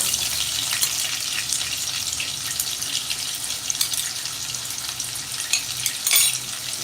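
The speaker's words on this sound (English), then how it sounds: "Just saute this for a few minutes." Onions sauté in a pan for a Sunday cook-along, a steady close sizzle and crackle with occasional louder pops and stirring scrapes.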